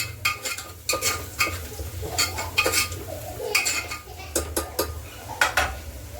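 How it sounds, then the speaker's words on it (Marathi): Spices, coriander powder, turmeric and red chilli powder, being stirred together in a pan while cooking ragda, with repeated metal spoon scrapes and clinks against the pan over a soft sizzle, close and fairly loud in an irregular rhythm. "धने पावडर हळद लाल तिखट हे सर्व आपण मिक्स करून घेऊया"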